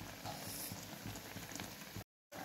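Flat bean curry bubbling at a steady boil under a lid on high flame, a continuous close rumble of busy popping and simmering that cuts out briefly near the end.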